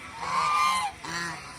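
Large male geese honk close by, two drawn-out nasal calls with a brief gap between them, loud and clear with no talk over them.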